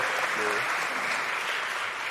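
An audience claps in a burst of applause at a KBO draft event, a dense steady patter of many hands at moderate volume.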